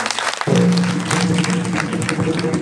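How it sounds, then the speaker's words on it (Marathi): A crowd at a public talk breaks into loud, sustained applause that starts abruptly after a brief pause and continues steadily, with some voices mixed in. "एकदा त्यांच्यासाठी जोरदार टाळ्या वाजवा."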